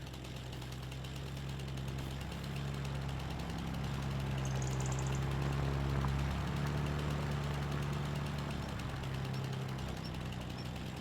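A tractor engine idles in Farming Simulator 25, a steady low mechanical drone with a rough rhythmic knock, holding evenly throughout with no talk over it.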